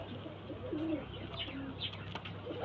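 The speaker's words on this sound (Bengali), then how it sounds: "আর এই যে মাদা পায়রাটা দেখুন" A female pigeon coos softly in a few short, low rolling phrases amid a steady background hum, with occasional faint chirps nearby.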